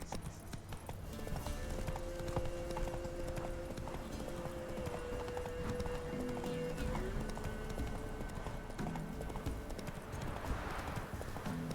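Horse hooves clip-clopping at a run in The Witcher 3, a steady rhythmic beat under continuous game music with an occasional whinny, moderately loud throughout.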